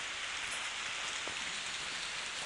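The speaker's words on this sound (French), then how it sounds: "Oula, Hein. quand même, il pleut." Rain falls steadily on a small cabin, a dense, even hiss of drops on the surface that carries on without pause, fairly loud and close, with no talking.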